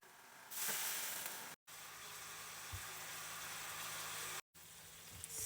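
Honey garlic chicken bites sizzle steadily in a hot pan, a constant close hiss of frying with small pops, briefly cut by two short gaps.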